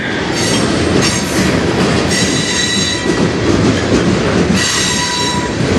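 A CN freight train rolls past on the Strathroy Subdivision, a loud continuous rumble of railcars with steady wheel clatter and high metallic squeals from the wheels. It is close and fills the whole stretch without a break.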